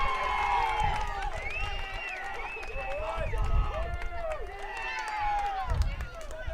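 Crowd of spectators cheering and calling out at a high school baseball game between Preston and Pocatello, a steady roar with whistles and shouts, under a commentator's talk.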